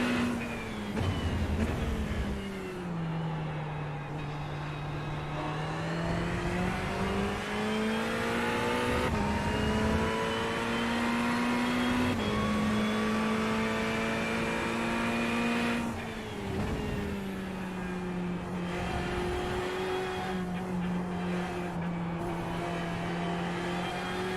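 Porsche race car engines in the iRacing video game drone loudly and continuously, the pitch climbing and dropping through gear changes as the cars run close together.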